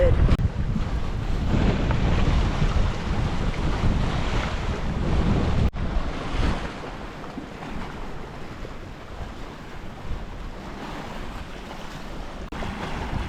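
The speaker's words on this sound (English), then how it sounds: "It's a little bit gusty because it's coming off the land as well, like 8 gusting 18." Gusty wind buffets the microphone while waves wash around a sailboat a few nautical miles out at sea, a steady, loud roar with rushing surges and occasional knocks, and no clear voices.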